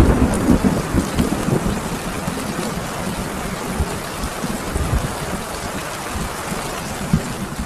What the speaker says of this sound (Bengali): বৃষ্টির শব্দ ছাড়া আর কিছুই কানে আসছে না।